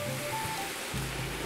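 Hot water pours steadily into a pot holding browned chicken drippings for a Brazilian galinhada, making a continuous rushing, splashing wash that stays fairly loud throughout.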